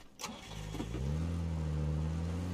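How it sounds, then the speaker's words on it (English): Pickup truck engine in the PUBG video game starting with a short cranking burst, then settling into a steady, loud mid-pitched idle hum nearby, no voices. "Oh, that's a pickup."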